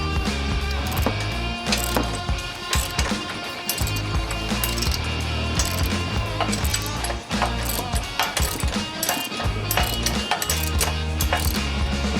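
Ratchet wrench tightening a washer and nut while mounting a Genrite stubby aluminum front bumper on a Jeep JL/JT, its rapid clicking buried under loud, continuous music throughout.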